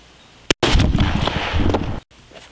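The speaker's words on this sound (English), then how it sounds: "So let's shoot it 2 more times." Firearm rounds strike a DFNDR armor plate during ballistic testing outdoors, producing a loud, close, booming blast with a long rough tail that briefly drops out at both ends, with no voices.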